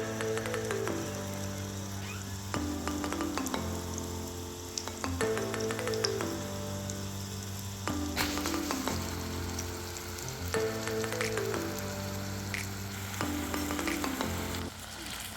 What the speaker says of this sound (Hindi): इनको स्लो फ्लेम पे मैंने शैलो फ्राई कर लिया था दोनों साइड से